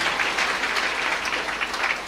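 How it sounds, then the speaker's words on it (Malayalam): A church congregation clapping together in thanksgiving, a full, steady wash of applause from many hands in a large hall, with no voices over it. "കൈയടിച്ച് കർത്താവിന് നന്ദി പറയാം"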